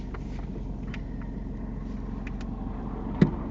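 A car rolls past on a road during a mock UK driving test, a low steady engine rumble heard from inside a vehicle, with a single faint thump near the end and no talk.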